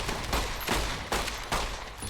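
Rapid bursts of gunfire from Fallout New Vegas, several loud shots landing in quick succession over a steady game background, with no talking.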